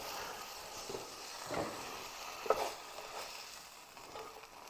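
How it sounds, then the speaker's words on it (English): Steady, soft sizzling of a grilled cheese sandwich frying in a pan, with a few faint scrapes and clinks of a utensil; no talking. "Let that sizzle up."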